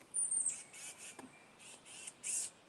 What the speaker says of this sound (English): something's squawking over here. I see a bird, I think.